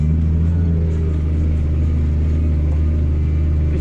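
A tractor engine runs steadily during spring ploughing, a close, constant low rumble with an even droning hum that never drops away.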